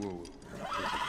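A horse whinnies in the video game The Last of Us, a fairly quiet neigh that blends with a voice talking over the game sound.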